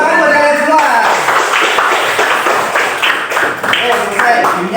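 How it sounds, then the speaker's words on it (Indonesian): Vocational high school students in a classroom clap for one another after a game, a busy patter of hands mixed with loud chattering and cheering voices that stay prominent throughout. "tepuk tangan buat kalian semua."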